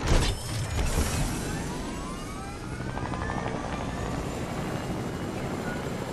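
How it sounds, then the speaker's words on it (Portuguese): A helicopter in the video game Fortnite whirs and drones steadily nearby, its rotor throb and mechanical whine holding at an even volume throughout. "Ah, vamos no helicóptero."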